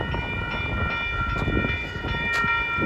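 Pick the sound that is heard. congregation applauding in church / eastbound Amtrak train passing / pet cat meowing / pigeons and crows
eastbound Amtrak train passing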